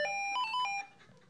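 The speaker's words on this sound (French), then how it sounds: "Oh, un bon coup de fil surprise, Gégène." A telephone rings in a comedy sketch about a halogen-lamp seller at a market stand, giving bright electronic ring tones in two short bursts at moderate level before fading into room noise.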